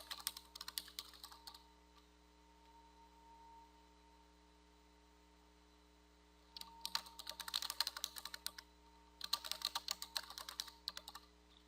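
A computer keyboard is typed on in quick bursts of close clicking keystrokes, separated by a quiet pause with a low electrical hum underneath.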